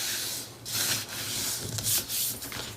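Paper pieces being folded and pressed together to form a hinge for a horizontal core album, giving close, soft rubbing and creasing scrapes in several short strokes with no talking.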